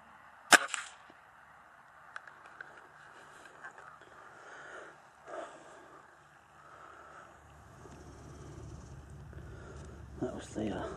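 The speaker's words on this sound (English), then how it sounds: "That was the Walther LGU, Sandwell Field Sports tuned, and also with the tune trigger" A single sharp crack of a tuned Walther LGU spring air rifle with a tuned trigger, fired outdoors in a field, followed by quieter rustling and faint background noise.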